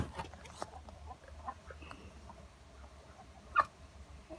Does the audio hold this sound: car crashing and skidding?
no